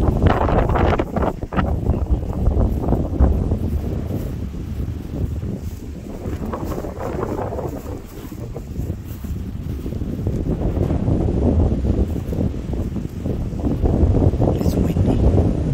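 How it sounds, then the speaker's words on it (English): Gusty outdoor wind buffets the microphone in a shaded backyard by an old pecan tree. The roaring rush swells and eases for the whole stretch, with no voices. "It's windy."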